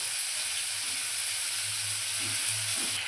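Chicken, potato, onion and spices frying together in a pan, giving a continuous soft sizzle and hiss with a low rumbling undertone throughout.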